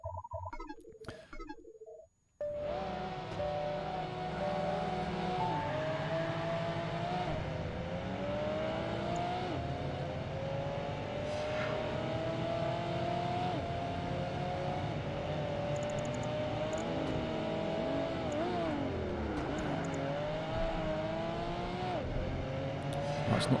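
A Porsche race car engine in Project Gotham Racing 2 starts after a brief game beep, then drones continuously with rising and falling whining revs through gear changes for about twenty seconds, steady and alone.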